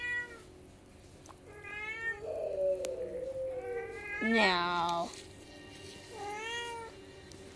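A cat meows repeatedly in several drawn-out calls spaced across the moment, one louder and more strained, with a person speaking briefly in between.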